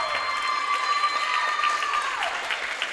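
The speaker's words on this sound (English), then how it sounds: "One more round of applause." Steady applause from a crowd at a high school basketball game fills the gym for about three seconds, loud and continuous with a constant tone running underneath.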